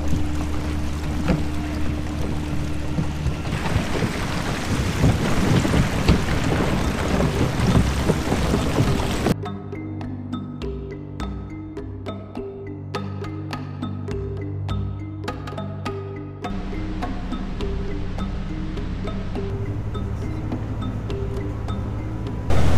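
Steady rumbling engine and water noise from a small icebreaker boat in Patagonia, Chile, shifting partway through to a quieter hum with intermittent knocks and splashes, no talking.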